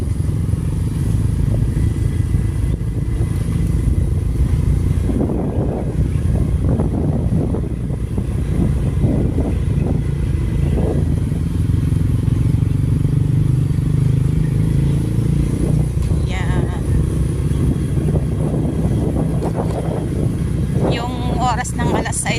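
A motorcycle rides along a road with a steady engine drone and wind rumble throughout, while people talk over it.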